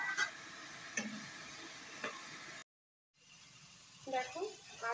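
Fried potatoes are stirred into spice masala frying in a pan, a soft sizzle with occasional scrapes and clinks of the spoon, faint and close, broken by a brief silent gap.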